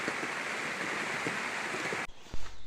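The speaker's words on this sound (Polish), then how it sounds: "czekamy, czy ten deszcz długo popada, czy tylko 5 minut i zaraz przestanie" Steady rain pouring outdoors in a garden beside a plastic polytunnel, a dense even hiss that stops abruptly near the end, followed by a couple of soft thuds.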